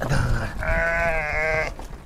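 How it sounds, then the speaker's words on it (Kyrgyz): A single Arashan sheep in a mountain summer pasture gives one loud, wavering bleat at close range lasting about a second, with rustling and low grunting sounds around it. "Мынау канча жаштык кой?"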